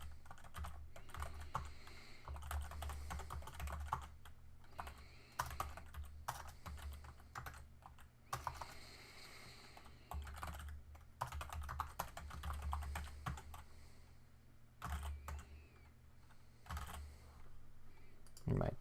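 Someone types a username on a computer keyboard to register on a site, making quiet, close bursts of rapid key clicks separated by short pauses.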